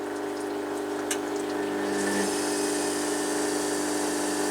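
A washing machine drain pump runs roughly during a test cycle, a steady loud droning whir with watery hiss, continuous and close with no talk.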